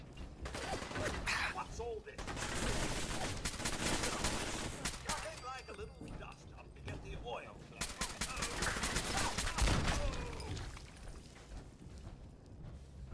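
Gunfire from a gun in the video game Wasteland Warrior: loud, dense bursts of rapid shots and booming blasts fill the whole stretch, with a voice talking in the mix.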